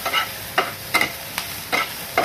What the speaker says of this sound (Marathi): त्यात आता कांदा फ्राय करणार आहोत छानपैकी.